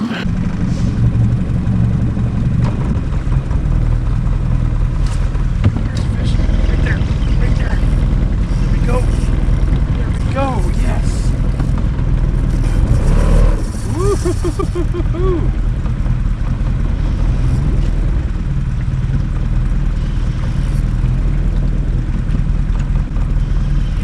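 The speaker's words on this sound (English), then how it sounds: "I can just sit here idling the boat" A boat engine idles steadily in slow water while fishing for coho, a continuous low drone running under talking throughout.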